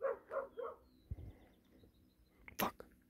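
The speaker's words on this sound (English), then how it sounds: "Why is that dog barking?" A dog barks three times in quick succession, fairly close, followed by fainter yips and a sharp bang-like crack later on a July 4th night outdoors, with someone talking at times.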